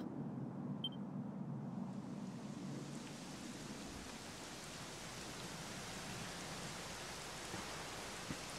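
Steady rainfall in the video game Dragon Quest XI, with a low rumble of distant thunder, a broad continuous hiss that swells slightly as it goes on, no voices.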